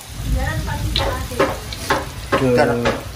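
Lumpia frying in a pan, with steady crackling sizzle under repeated scraping and clinking stirring strokes and a few brighter metallic knocks, fairly close and loud throughout.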